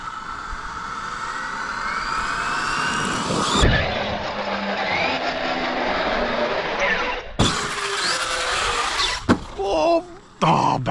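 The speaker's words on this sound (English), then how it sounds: "guys, that was the first backflip with the Vigilante." A Redcat Vigilante 8S 1/5-scale electric monster truck runs and attempts a backflip, its high motor whine cutting out abruptly, surging again, then ending in sharp clattering impacts and thumps.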